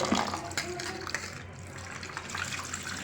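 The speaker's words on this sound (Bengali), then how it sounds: "ভালো করে মাংসটা ধুয়ে নিচ্ছি" Running tap water splashes steadily as raw mutton pieces are rinsed by hand for a whole-garlic mutton curry, a continuous close gush with brief clatters throughout.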